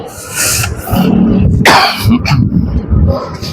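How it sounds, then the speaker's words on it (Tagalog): A single sharp, forceful cough bursts out loud and close, surrounded by brief throaty noises and murmured sounds. "Pasensya na at inuubo tayo"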